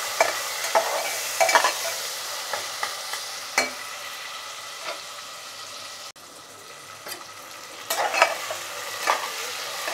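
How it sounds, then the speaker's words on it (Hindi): Chopped tomatoes fry with onions in a pan over a high flame, a continuous close sizzle broken by repeated scraping and stirring clatters from a spoon; no talking. "टमाटर को हम 2 मिनट हाई फ्लेम में सॉफ्ट हो जाने तक भूनेंगे प्याज के साथ।"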